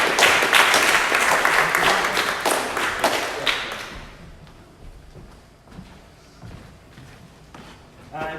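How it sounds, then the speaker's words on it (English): Audience applause greets a man coming up on stage at a 1031 exchange seminar, loud dense clapping for about four seconds before fading into scattered claps and room noise. "Give him a round of applause."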